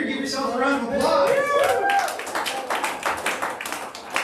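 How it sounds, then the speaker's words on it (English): A comedy club audience at Doghouse Theater applauds, a dense patter of clapping from a crowd that builds and carries on, with a voice talking over the start. "Give yourselves a round of applause."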